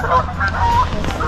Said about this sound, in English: Now these fucking geese want to start messing about.